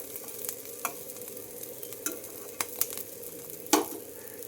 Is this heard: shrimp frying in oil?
yes